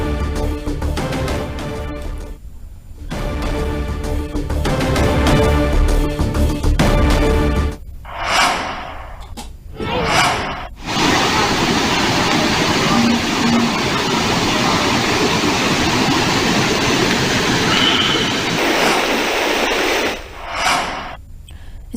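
Water roars out through four opened gates of the Yerrakaluva reservoir in Eluru district during a flood inflow, a loud, steady broadband rush that follows a stretch of louder rhythmic sound and swells in strong surges.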